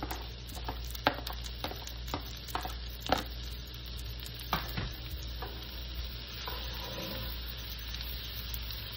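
Garlic and onion for chicken sisig sauté in a pan, a steady close sizzle with sharp scraping and stirring taps from a utensil, moderately loud and with no talk.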